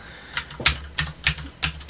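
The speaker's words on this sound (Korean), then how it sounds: "이렇게 또 타이핑 해보니까는" Keys clatter on a computer keyboard while text is entered in the vim editor on Linux, a quick irregular run of about seven crisp, close taps with short gaps between them.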